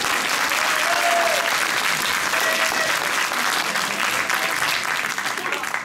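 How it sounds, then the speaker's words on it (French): A concert crowd in Anor claps loudly and continuously for the sound crew at a tribute show, with full, dense applause throughout and a slight fade at the end. "faut applaudir à la technique, s'il vous plaît"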